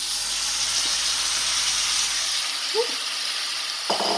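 Ackee goes into a hot frying pan with jerk sausages and sizzles with a steady broad hiss, broken by a couple of soft clinks from stirring.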